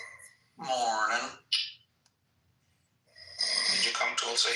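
A person snores close by in two bursts, a long throaty rattle followed by a short snort, then a pause before a loud stretch of breathy, rasping noise returns.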